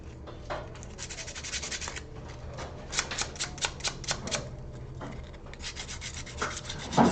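Sandpaper rubbed over a stone at a jewelry-making bench, a close, steady rasping scrape in repeated strokes, with a run of quicker, sharper strokes near the middle.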